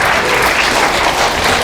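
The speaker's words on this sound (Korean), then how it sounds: "이럴 때 박수 치는 겁니다" A studio audience breaks into dense, loud applause during a talk show interview about world history, a continuous wash of many hands clapping with no gaps.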